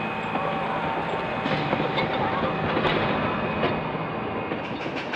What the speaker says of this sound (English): The locomotive steamed out of Belgrave to be this year's Anzac Train.